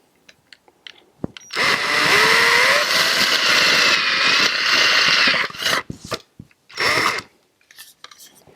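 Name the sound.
drilling holes through a kayak crate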